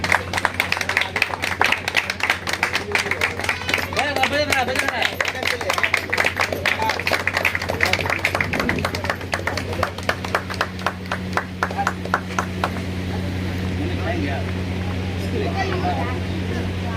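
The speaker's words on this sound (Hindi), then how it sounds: "जोरदार तालियों से स्वागत करने का काम करें" An audience at a village ceremony applauds to welcome guests, a dense, sustained clapping that gradually thins out, with a steady low hum and voices underneath.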